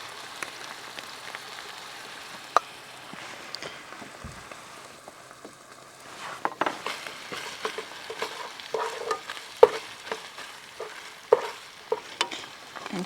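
Garlic fries in a pan at a truck camper campsite while beef stroganoff is being cooked. A steady sizzle runs under repeated stirring scrapes and clicks that grow busier toward the end, with no talk.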